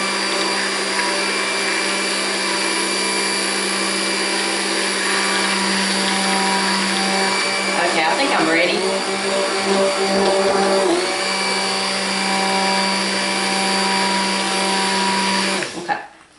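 A stick blender whirs steadily through a batch of cold-process lard and goat milk lye soap, a loud continuous motor drone with a brief wobble midway before it cuts off at the end; a voice speaks briefly over it.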